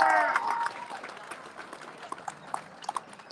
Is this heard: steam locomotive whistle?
no